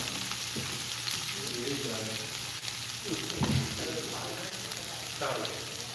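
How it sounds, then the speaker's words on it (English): Leeks, celery, onions and carrots sizzle steadily as they sauté in a soup pot, with a soft broadband frying hiss throughout and a few brief stirring bumps and scrapes. "We're gonna add all this in here. We're gonna saute it for a little bit."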